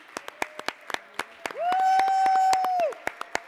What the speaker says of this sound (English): And I'd like to give them all a big round of applause.